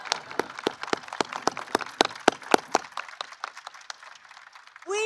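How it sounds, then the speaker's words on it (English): Jill Biden clapping for teachers, a run of sharp, close single hand claps in a brisk, slightly uneven rhythm that slows and fades before a voice starts at the end. "I'm going to clap for you."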